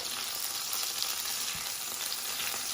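Butter sizzling in a hot pan with stuffed calamari, a steady, fairly loud crackling fry with fine spitting pops throughout and no talking.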